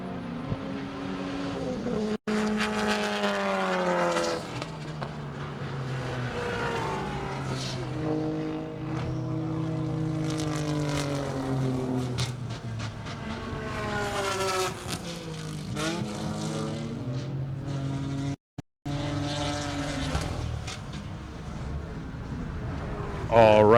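A time attack race car on a fast lap at New Jersey Motorsports Park revs hard, its engine note rising and falling through gear changes and passing close, with a commentator talking over it.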